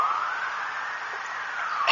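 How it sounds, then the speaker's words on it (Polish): Ambulance sirens arriving at the Smolensk crash site wail in a long, steady rising-and-falling tone, heard from a moderate distance and filling the whole stretch without voices. "I tam właśnie ten dźwięk wyjący to są właśnie karetki, które przyjechały na miejsce."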